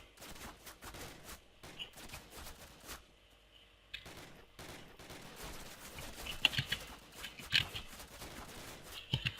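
Bursts of gunfire in the video game Call of Duty 3, rapid volleys of shots with short pauses and a quieter stretch midway, followed by sharper isolated cracks toward the end, moderately distant.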